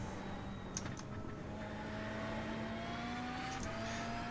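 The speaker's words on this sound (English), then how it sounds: "it sounds like a lorry." A video game car engine drones low and heavy like a lorry, holding a steady rising whine with slight pitch shifts and no voices over it.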